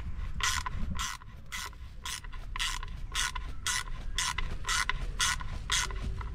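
A ratchet wrench with a 6 mm socket turns a bolt during disassembly of a Multivan T4 TDI 2.5 EGR valve, giving a rapid, even series of about a dozen close, crisp clicks over a faint background hum.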